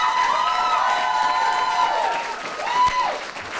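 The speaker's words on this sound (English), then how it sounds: "Applause going." Audience applause and cheering with whoops after a poem at a youth poetry slam, continuous clapping and high shouts at a steady level, fading slightly toward the end.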